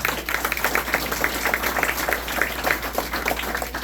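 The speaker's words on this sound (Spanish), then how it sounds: "Démosle otro fuerte aplauso a la palabra de Dios." Congregation applauding during a church sermon, a steady dense wash of many hands clapping at moderate level with no pauses.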